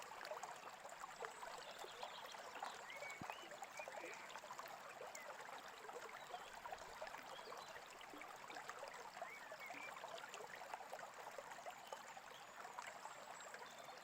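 Babbling brook with steady flowing stream water, a continuous dense trickling wash heard alone at an even, moderate level throughout.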